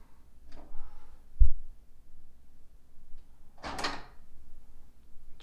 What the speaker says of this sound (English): show you like this deadbolt here up top as I